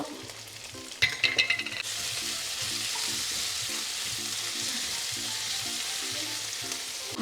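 Garlic and ginger paste fries in a pan for chicken biryani, giving a steady close sizzle. Near the start a few quick clinks of a spoon sound against the pan, and faint rhythmic background music plays underneath.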